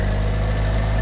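A loud, steady tractor engine in the video game My Summer Car drones at a constant low idle throughout, with a strong low-pitched hum and no other sounds.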